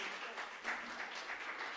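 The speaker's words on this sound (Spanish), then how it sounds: "Denles aplauso con libertad" Soft, steady applause from a church congregation at a worship service, a faint continuous patter of many hands with a brief swell midway, and voices mixed in.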